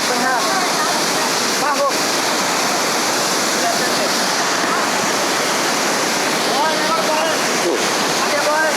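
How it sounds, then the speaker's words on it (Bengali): Rushing water at the Suptadhara and Sohosrodhara waterfalls roars steadily and loudly at close range, a constant dense wash with faint voices briefly heard beneath it. "শুধু থাকে অবিরাম পানির শব্দ।"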